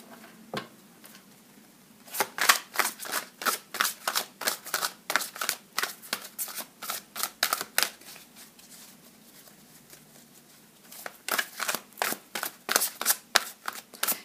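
Tarot cards being shuffled by hand, crisp riffling flutters in quick repeated bursts close by, a brief pause midway before more rapid shuffling resumes.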